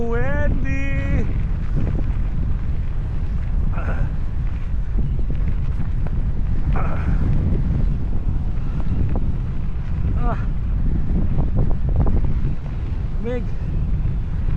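Strong wind buffets the microphone continuously outdoors at a lake in North Dakota during a bike ride, a loud steady rumble with brief voices and chatter breaking through.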